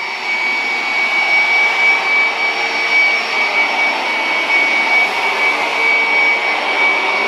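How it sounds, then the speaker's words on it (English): A vacuum cleaner runs steadily on a bathroom carpet, a continuous loud whine with a high tonal hum that holds unbroken throughout, with no talking. "Sorry about the noise, but Rob's cleaning the bathroom still"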